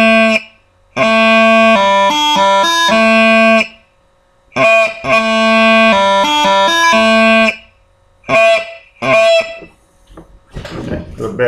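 Highland bagpipe chanter plays the opening of Scotland the Brave with a slightly faulty reed, sounding loud bursts of sustained melody with quick grace-note embellishments, broken by short pauses and a ragged final phrase.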